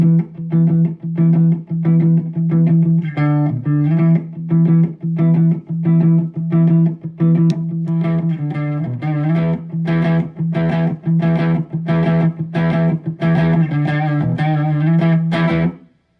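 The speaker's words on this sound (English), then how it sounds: "So Troy, go ahead and give us some clean tones" An electric guitar plays rhythmic chords and picked notes through a Noise Pollution Pedals Zoso overdrive, slightly distorted tone, close and loud, with steady pulsing strums.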